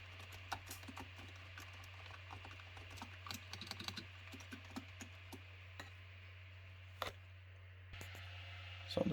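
Fast, steady typing on a mechanical gaming keyboard with linear switches. The keys clatter in close, crisp ticks over a low, constant background hum, with a louder clack near the end.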